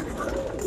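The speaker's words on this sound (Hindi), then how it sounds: "सारे नर कबूतर है," Male pigeons in a loft give soft, low cooing, quiet and close, with no voices over it.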